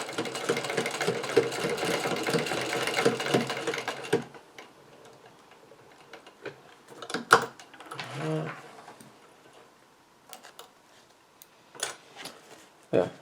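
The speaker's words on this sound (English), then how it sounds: "when we sew them together, it'll be a lot easier to do" A sewing machine stitches fabric strips together for a patchwork beanbag. It runs in a fast, rattling burst for about four seconds, then stops, leaving quiet scattered clicks and handling noises.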